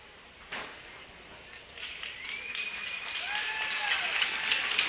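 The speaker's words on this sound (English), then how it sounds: "And plenty of applause for Bill Stoltz" A hockey arena crowd applauds for Bill Stoltz before the Wasilla Warriors face the Palmer Moose in their Cross Valley rivalry, a steady wash of clapping that swells over several seconds, with sharp whistles gliding above it.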